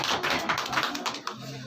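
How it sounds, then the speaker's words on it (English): A few people clapping for a boy in a spoken English class, a short burst of quick hand claps at fairly close range, fading out after about a second. "Big clapping for the boy."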